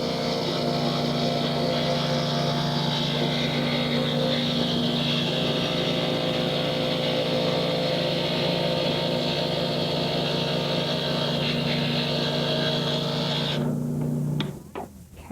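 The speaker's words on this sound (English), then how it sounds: "we're just going to be pushing into the wheel and grinding along the edge" Glass grinder wheel grinding the edge of a piece of stained glass, a steady close motor whine with a layered grinding hum that holds evenly, then cuts off near the end.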